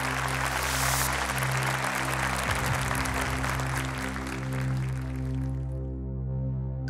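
A studio audience at a Quran recitation competition applauds a contestant, a dense round of clapping over a steady musical drone that fades out toward the end.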